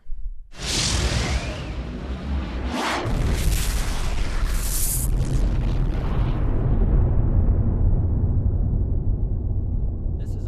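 A huge explosion bursts in with a roaring whoosh, followed by a long, rumbling blast that keeps thundering and slowly fades with deep low rumble.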